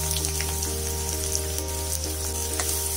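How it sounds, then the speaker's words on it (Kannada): Finely chopped onions frying in oil until brown for chicken tikka masala, a dense, even sizzle crackling steadily and close up for the whole stretch, with no voices. "ಸ್ವಲ್ಪ ಬ್ರೌನ್ ಆಗೋವರೆಗೂ ಹುರ್ಕೋಬೇಕು ಈರುಳ್ಳಿನ. ಈರುಳ್ಳಿ ಎಲ್ಲ ಬ್ರೌನ್ ಆಗ್ತಿದೆ."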